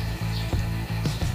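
A snail rasps holes with its mouth up close, making short scraping strokes in an uneven rhythm, about four or five in a second and a half, over a steady low hum.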